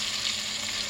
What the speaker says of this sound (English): and you're deep frying,